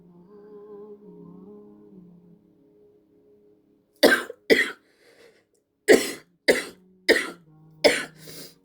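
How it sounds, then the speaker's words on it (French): A low hum fades out, then several sharp, dry coughs from someone with flu come in quick bursts, two close together followed by four more in a row. "j'ai la toux"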